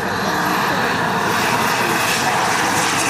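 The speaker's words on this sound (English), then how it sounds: "Hear the turbine spooling up." Model jet aircraft turbine engine spooling up at a model air show, a loud steady roaring whine that fills the whole clip, close and continuous with no voices.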